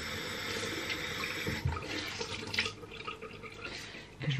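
Water from a tap running to wet a Beauty Blender makeup sponge in a bathroom, a faint steady splashing trickle with small irregular splashes, close by and alone.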